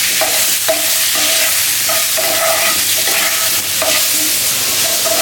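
Potatoes with chili powder frying in a pan for chicken and egg curry give a loud, steady sizzle, with intermittent scraping stirs cutting through. No one speaks.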